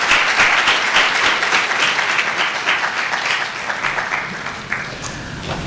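Audience applause for debaters at a debate event fills the room with dense, sustained clapping that stays loud throughout and tapers slightly near the end, with no talk over it.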